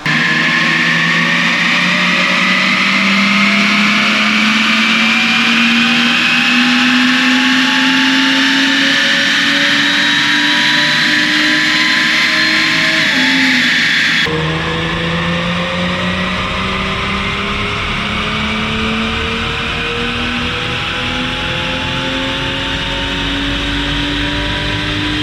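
Audi S4 with a stock 3.0L supercharged V6 revving hard on a dyno, the engine note climbing steadily under sustained load with supercharger whine, then a brief dip before another long rising pull, loud and close.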